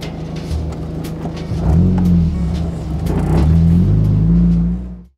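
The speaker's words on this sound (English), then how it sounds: "This is my 2002 Mazda MX-5 Miata, and it is my NB2 Miata" The engine of a 2002 Mazda MX-5 Miata NB2 runs close by, a steady low hum rising as it revs and settles back, cutting off at the end.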